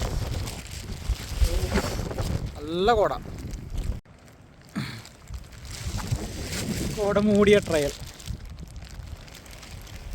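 Strong wind gusts across a misty, fog-covered rocky peak on the Kurinjal trek in Karnataka's forests, a loud, continuous roaring rumble buffeting the microphone while people talk over it.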